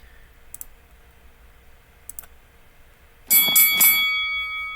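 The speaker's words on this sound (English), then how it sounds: "the bell sounds as both fighters turn and head back to their corners" In a Thomas Hearns career boxing video game, a round bell clangs three quick times and then rings on, loud and bright, after a few faint clicks.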